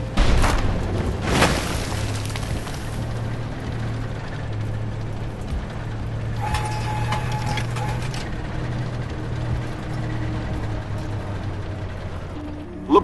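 Missile reloading on an M60A2 Starship tank in the Armored Warfare game, with mechanical ratcheting clanks and a thump near the start, then steady engine hum, a brief whirring burst midway and a final clunk.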